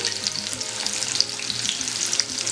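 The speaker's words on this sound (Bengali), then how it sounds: "নাড়াচাড়া করে পেঁয়াজ এবং কাঁচামরিচটাকে আমি ভেজে নিব" Chopped onion and green chillies fry in hot oil with a dense, steady sizzle and crackle, close by and with no voice over it.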